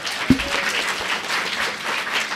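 An audience applauds at an NYU Game Center lecture, a steady spread of clapping that fills the room, with one sharp thump near the start.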